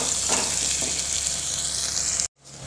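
Panch phoron and garlic hitting hot oil for a sour fish curry give a loud, close, steady hiss that cuts off abruptly near the end, then a quieter sizzle resumes.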